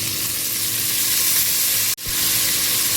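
Cut vegetables and peas fry in a pan with carrot and potato, a steady close sizzle running throughout, broken by a brief dip near the two-second mark before the hiss resumes.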